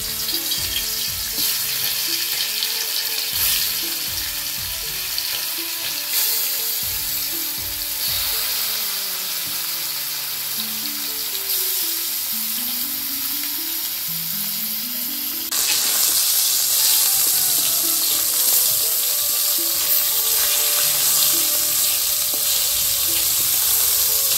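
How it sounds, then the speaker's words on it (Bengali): Chanda fish sizzles loudly and steadily in hot oil, a continuous crackling hiss that grows stronger about midway, with faint tonal sounds underneath. "তেলটা গরম হয়ে যায়। এখন মাছটা ভেজে নেব।"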